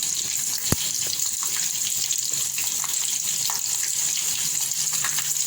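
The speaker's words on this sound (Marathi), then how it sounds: "फोडणी आपली मस्तपैकी जरा तडतडू दे" Cumin seeds, green chillies and curry leaves sizzle in hot oil for a tempering. The crackling hiss is continuous and close, with one sharp pop early on.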